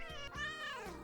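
A cat gives one long, clear meow that rises and then falls, close by and loud, with faint background sound under it.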